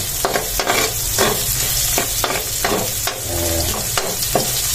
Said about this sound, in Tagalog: Dito na rin tayo nag-gisa. Ayan. Sibuyas at bawang.